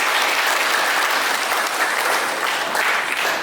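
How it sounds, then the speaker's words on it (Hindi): Applause from a seminar audience on a motivational talk about reversing diabetes, steady dense clapping that sounds close and fills the whole moment, with no voices above it. "तालियां दे दीजिए"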